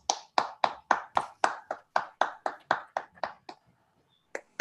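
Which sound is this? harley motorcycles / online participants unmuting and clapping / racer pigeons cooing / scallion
online participants unmuting and clapping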